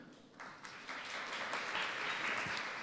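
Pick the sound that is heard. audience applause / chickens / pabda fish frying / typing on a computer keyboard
audience applause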